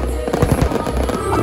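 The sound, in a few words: fireworks display exploding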